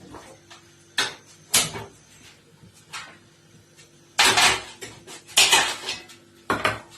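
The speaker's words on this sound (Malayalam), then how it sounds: "നമുക്കിനി ചട്ടി അടുപ്പിലേക്ക് വെക്കാം" A small pan set onto a home kitchen gas stove, several loud clattering metal knocks and clanks of cookware in separate bursts with quieter gaps between, no voices.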